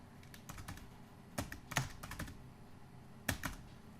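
Fingers type on a computer keyboard while text is edited on a WordPress landing page, giving light, uneven clusters of clicks with a few louder keystrokes, close and on their own with no talk.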